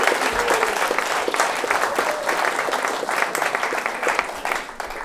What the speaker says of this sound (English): So please give a massive round of applause to Whitney